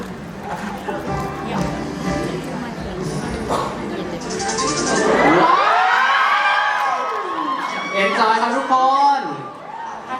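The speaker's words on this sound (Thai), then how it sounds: "เสียงกรี๊ดดังๆหนึ่งที" A loud crowd of fans at a fan screening event cheers and screams, rising to a sustained peak of shrieking with high voices sweeping up and down over general commotion.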